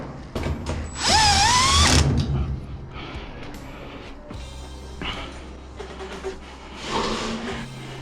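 A screw is driven during repair of a Whirlpool washer, model WTW4800XQ4. One loud, rising mechanical whir of a power driver lasts about a second near the start, followed by quieter clicks and handling noises.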